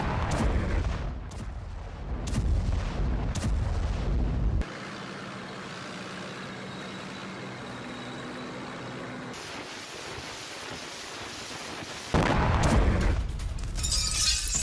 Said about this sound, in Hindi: रूसी सेना का MLRS से हमला।